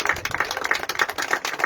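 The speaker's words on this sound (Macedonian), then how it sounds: "Заслужува аплауз од присутната публика" Spectators at a football match applaud in a brief burst of quick, fairly close clapping that stays steady and moderately loud from start to finish.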